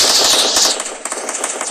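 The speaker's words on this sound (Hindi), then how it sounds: "देखो गाइस फायरिंग भी शुरू।" Rapid automatic gunfire from a G18 pistol in a shooting video game, a dense burst of crackling shots that tapers slightly and then continues in quick repeated bursts, loud and with no talking over it.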